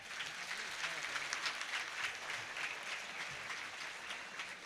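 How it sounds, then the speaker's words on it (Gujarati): An audience at a Gujarati community gathering claps together in a soft, steady patter of applause that sounds fairly distant and quiet throughout. "આનંદ આવ્યો તો એકવાર તાળી પાડી દો."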